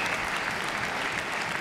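Crowd applauding after a squash rally at an indoor professional tournament, a steady dense wash of clapping that stays loud throughout, with no talk over it.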